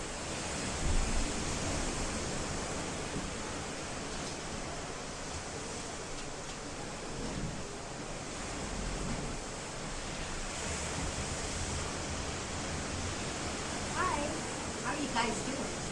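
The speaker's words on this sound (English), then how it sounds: "stand clear to get some beautiful sounds of Maui surf" Ocean surf on Maui near Kaanapali, a steady broad wash of breaking waves close by, continuous and fairly soft, with light wind over the microphone.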